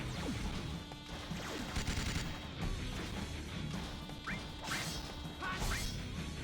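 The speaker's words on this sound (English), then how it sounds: "we'll just start taking pot shots at him" Gunfire and impacts from Final Fantasy VII Crisis Core during a battle: a dense stream of sharp cracks, smashes and swishes layered over game music, steady and close throughout with no talk.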